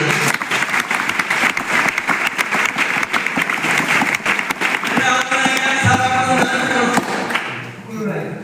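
Audience clapping at a Christian gathering, sustained dense applause that fills the room for several seconds before tapering off near the end, loud and close with some voices mixed in.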